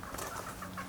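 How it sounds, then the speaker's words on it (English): Rooster clucks among a group of chickens outdoors in a Canadian surf town, a few short close clucks in quick succession over a steady low background hum. "I think that's a rooster."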